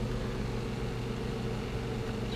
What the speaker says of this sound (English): So we're getting a little distortion here.